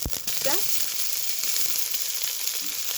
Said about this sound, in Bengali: রান্নার সরিষার তেল রসুন আর কাঁচামরিচ ঝাল মতো দিয়ে দিই সামান্য একটু পেঁয়াজ দেবো ক্যাপসিকাম